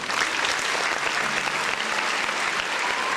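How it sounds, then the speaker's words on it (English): Applause rises in the video game No, I'm Not a Human, a dense, steady crowd clapping at even loudness throughout, with no talk over it. "Good clap!"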